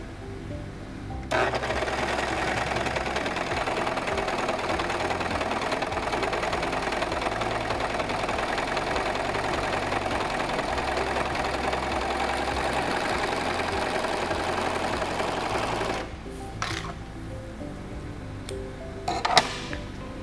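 A SINGER 14CG754 serger runs a 4-thread overlock stitch with a steady, fast mechanical whir close by. It sews continuously for about fifteen seconds, then stops, leaving a few small clicks and handling noises.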